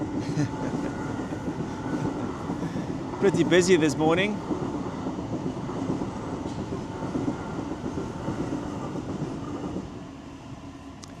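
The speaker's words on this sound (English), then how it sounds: "Another train." A train rumbles and clatters past nearby in a steady continuous roar, with a brief squeal partway through and someone talking over it.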